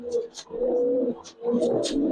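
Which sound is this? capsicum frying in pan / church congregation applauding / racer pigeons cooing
racer pigeons cooing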